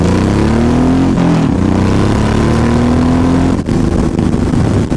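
A Honda VTX 1800 motorcycle engine revs loud and close, its deep throbbing note rising steadily in pitch, dipping briefly, then climbing again before easing off near the end.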